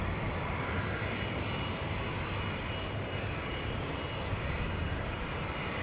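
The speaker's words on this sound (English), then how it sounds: "here we have a Helvetic Embraer 190 E2 to Paris Charles de Gaulle" A Helvetic Embraer 190 E2 jet at Zurich Airport gives off a loud, steady engine roar in stormy conditions, an unbroken broadband rush that stays even throughout with no talking.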